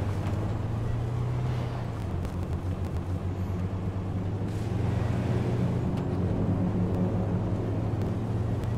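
Car engine in the battle royale video game H1Z1: King of the Kill, a steady low droning rumble running throughout with slight pitch shifts, moderately loud with no talking.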